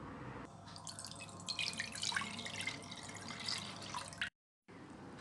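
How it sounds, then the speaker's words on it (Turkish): Warm milk poured from a 250 ml glass into a bowl for katmer dough gives a faint, steady trickle and splashing, ending with a short silence. "Öncelikle kabıma 250 milimlik su bardağıyla ılık süt alıyorum."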